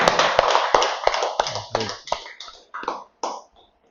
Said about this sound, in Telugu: మనందరికీ ఒకసారి గట్టిగా చప్పట్లు కొట్టుకున్నాం